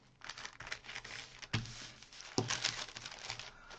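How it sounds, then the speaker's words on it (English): A paper bag is folded and creased, giving quiet crinkling and crisp rustles with a few sharper creasing snaps, close and alone without voices. "I'm going to fold the bag in half up to the seam, crease it, then I'm going to fold it in half again"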